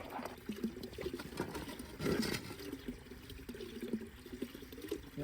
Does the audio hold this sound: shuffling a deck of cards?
no